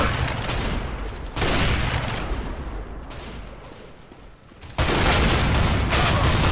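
Gunfire in the video game Counter-Strike: Global Offensive: dense, loud bursts of rapid shots that fill the whole clip, growing heavier near the end.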